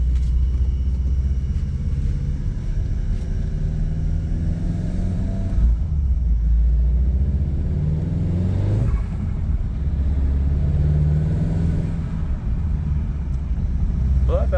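Volkswagen MK7 Golf R fitted with APR charge pipes and a new APR blow-off valve, engine rumbling loudly from inside the car with several rising revs and quiet release hisses.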